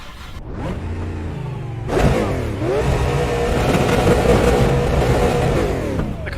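A super late model race car engine at Nashville Speedway in the iRacing simulator roars and revs hard, dipping briefly before climbing again, loud and steady with no talk.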